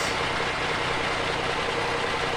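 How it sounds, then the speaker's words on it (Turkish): BMC Fatih truck engine idling in Euro Truck Simulator 2, a steady low rumbling drone with no voices. "Hemen şöyle bir aracımızı çalıştıralım."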